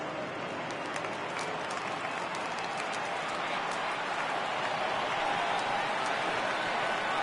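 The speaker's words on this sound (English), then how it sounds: "Crowd gets up for the 3-2" Broadband stadium crowd noise from the MLB 18 baseball video game as fans rise for a full count, a steady roar with scattered clapping that runs evenly the whole way through.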